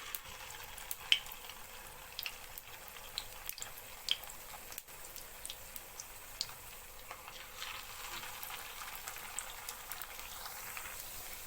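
Potatoes fry in a shallow layer of hot oil in a pan as pieces are added one by one, a steady crackling sizzle broken by scattered sharp pops.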